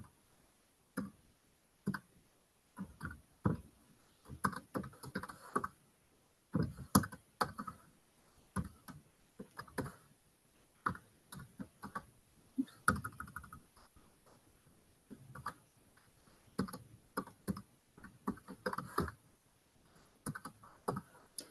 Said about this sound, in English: So now I'm going to type in the whole thing.